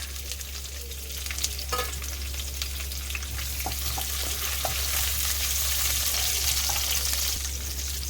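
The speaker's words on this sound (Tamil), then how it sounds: "இந்த பூண்டு வந்துட்டு நமக்கு கொஞ்சம் ப்ரௌனிஷாக வர வரைக்கும் நம்ம இதே மாதிரி எண்ணெயில் வந்துட்டு வதக்கலாம்" Garlic fries in hot oil for Chennai-style mutton biryani, a loud, steady sizzle with occasional stirring scrapes and small pops, no voices over it.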